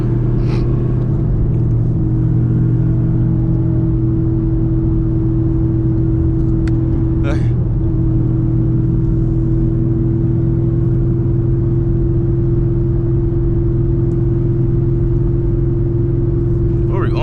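A 900 HP Chevrolet Camaro ZL1 drones loudly with a constant low engine rumble heard from inside the cabin while accelerating, with a few brief sharp squeaks over the steady roar.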